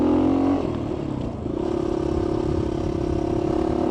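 A GPX FSE250e motorcycle engine drones steadily as it rides down a dirt track, its pitch dropping after a brief rev at the start, with clattering rough-ground noise underneath.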